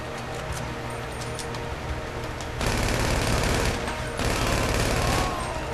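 Gunfire in the video game GTA 5 Online: loud, dense automatic bursts that run continuously, swelling into heavier volleys partway through, with no let-up.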